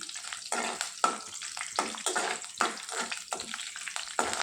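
Dry red chillies, curry leaves, cumin, mustard seeds, urad dal and chana dal frying in hot oil for a cluster bean curry, with a loud, close sizzle that surges in repeated bursts as the spices are stirred.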